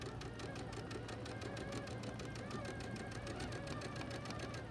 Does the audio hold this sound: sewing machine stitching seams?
yes